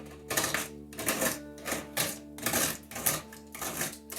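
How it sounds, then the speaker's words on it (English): Utility knife slicing and cutting away at drywall around a skylight hole, a series of close, rhythmic scraping strokes, each loud burst separated by brief pauses. "I'm just kind of slicing and cutting away at it."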